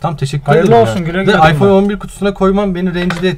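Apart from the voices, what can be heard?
No everyday noises stand out.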